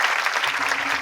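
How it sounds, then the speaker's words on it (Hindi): A church congregation at a Sunday meeting claps together, with a dense burst of applause filling the brief moment. "इन कूलरों के लिए तालियां बजाएं"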